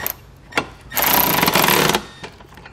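A power tool tightening bolts on a trailer hitch receiver spacer block for a 2022 Honda CR-V, heard as a loud, steady buzzing whir lasting about a second. Short clanks and taps come before and after it, and nobody talks.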